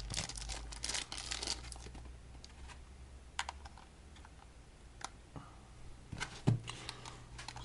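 A SIM card and battery being fitted into an LG GS290 phone: quiet plastic clicks, scrapes and light handling taps up close, with no talking.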